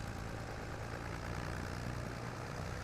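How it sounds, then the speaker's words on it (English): Small tractor engine labouring under load in Farming Simulator 25, a steady low droning hum that holds at a constant level throughout with no voices. "this little tractor's struggling"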